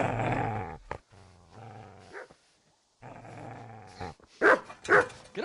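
A dog in the medieval game Kingdom Come: Deliverance growls low and steadily, pauses, then breaks into several sharp, loud barks near the end, close and clear.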